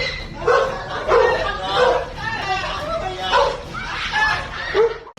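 Pit bull dogs barking in a repeated run of sharp, mid-pitched barks and yips, fairly close and loud, with busy background noise.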